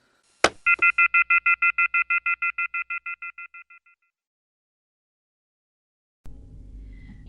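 Telephone keypad dialing tones for a prank call to an electrical store, a rapid string of about fifteen evenly spaced beeps following a single click, then silence and a faint hum as the line opens.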